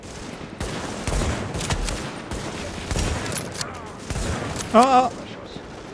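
Carbine gunfire in The Division on PS4, a few scattered bursts of shots at moderate distance, with a player's short exclamations over them near the end.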